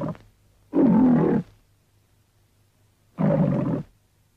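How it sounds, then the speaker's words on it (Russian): The MGM logo lion roars in a 1928 film intro: two loud, deep roars, each about a second long, separated by a short quiet gap over a faint low hum. "но 28-й Джеки все-таки начинает потихоньку рычать"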